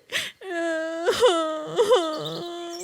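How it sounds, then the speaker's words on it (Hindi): A cartoon's small child cries in a high, wavering wail that rises and falls in several sobbing pulses, loud and close, with no other voices. "वो छोटा बच्चा रोने लग जाता है"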